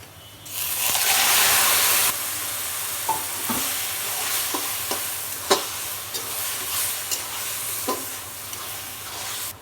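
Taro leaves hit hot oil in a wok with a loud burst of sizzling, then keep frying more quietly under repeated sharp scraping and clacking strokes of a stirring spatula.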